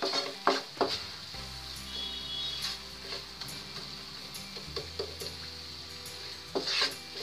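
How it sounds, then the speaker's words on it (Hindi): Spice masala frying in ghee in a pan, a soft continuous sizzle under occasional sharp scrapes and taps of a stirring spoon, close and fairly quiet with no talking. "मसाले को हमें तब तक भूनना है जब तक मसाले से घी अलग ना हो जाए"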